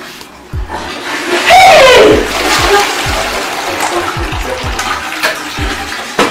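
A household toilet flushes nearby, giving a loud gushing rush of water that swells and then fades into draining and refilling, while a voice calls out briefly over it.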